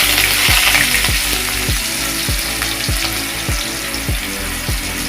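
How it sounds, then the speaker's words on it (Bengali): Chopped onions fry in hot oil in a pot, a dense close sizzle over a regular series of low thumping knocks roughly every half second, with no voices present. "এখন একটু পরিমাণ মতো তেল দিয়ে দেবো পেঁয়াজ কুচিগুলো দিয়ে দিলাম"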